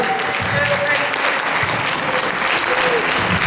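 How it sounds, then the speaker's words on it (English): Big round of applause from the audience at a Naruto Q&A panel, dense steady clapping that holds at full strength for the whole stretch with a few voices mixed in. "Can I get a big round of applause for them, everybody?"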